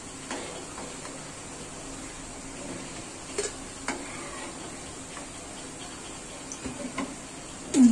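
Fried onions are lifted one by one out of a frying pan: a faint, steady oil sizzle with light ticks and occasional utensil clinks, sharper near the end, with no talking.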